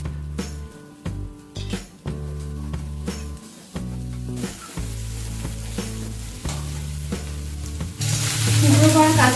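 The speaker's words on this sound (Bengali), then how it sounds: "এটা ভাজা হতে হতে আমি এর মধ্যে গাজর, বিনস, কড়াইশুঁটি সব একবারে দিয়ে ভেজে নেব।" Carrots, beans and peas frying together in a pan give a soft hiss beneath tonal background music, then burst into a loud, bright sizzle near the end.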